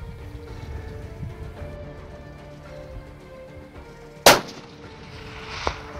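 A single sharp rifle shot cracks out during a kudu hunt, loud and close, standing out from quiet outdoor ambience, with a fainter secondary report trailing about a second later.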